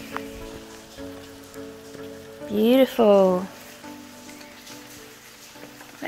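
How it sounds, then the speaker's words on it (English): Steady light rain patters in the background while a person speaks a single word over it, the rainfall continuing evenly throughout. "Here comes the rain."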